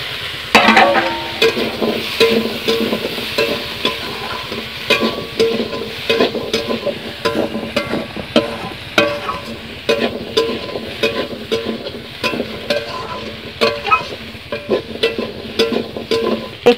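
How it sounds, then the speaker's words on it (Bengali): Potatoes and soybean chunks are stirred through a spiced pan of oil with a garlic paste base, giving a steady run of scraping and clacking spoon strokes over a continuous close sizzle, with no voices. "এখন আমি আলু দিয়ে দিচ্ছি। আর তার সাথে সোয়াবিনও দিয়ে দিচ্ছি।"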